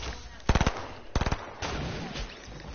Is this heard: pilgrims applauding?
no